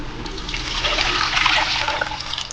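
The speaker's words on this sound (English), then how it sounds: "We're gonna add some water." Water poured into a cooking pot for Filipino pancit bam-i, a steady splashing, gurgling stream that swells slightly midway before easing off.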